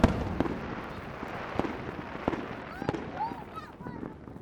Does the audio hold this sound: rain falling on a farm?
no